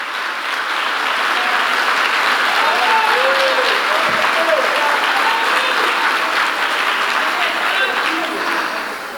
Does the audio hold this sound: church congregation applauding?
yes